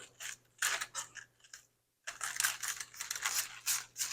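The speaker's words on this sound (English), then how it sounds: "So we're gonna cut this core out." A knife cuts the core out of a cabbage, crisp crunching slices in quick bursts, with a brief silent pause midway before the cutting resumes close by.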